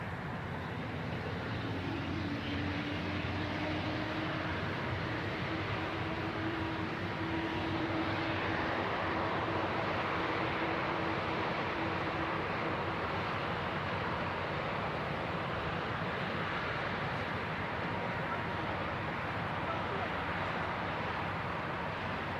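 A Virgin A330 airliner taxiing at Manchester Airport, a continuous broad jet engine roar heard from a distance, steady and unbroken with a faint rising whine in the middle.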